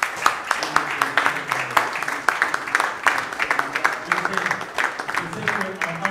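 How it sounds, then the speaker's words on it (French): An audience at the Mingi Wingi 2024 event applauding loudly, dense continuous clapping from a large crowd with scattered sharper claps throughout, and speech mixed in. "nous allons d'abord demander au public d'applaudir."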